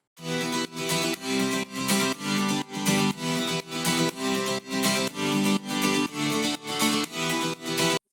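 Guitar loop from an electronic dance track, bright strummed pattern repeating in short regular pulses, dense and loud throughout with no talking.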